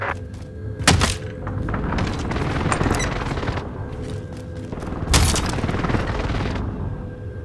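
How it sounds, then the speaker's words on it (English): Precision airstrike explosions in Call of Duty Warzone land as two sharp, heavy thuds a few seconds apart, each followed by rumbling debris and scattered gunfire in a dense, noisy battle ambience. "precision airstrike missed"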